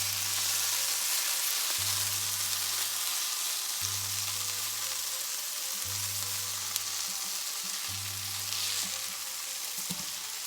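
Tofu, peppers and onions fry in barbecue sauce in a pan, giving a steady sizzle with a low humming tone that pulses on and off at regular two-second intervals, with a few faint clinks near the end and no talking.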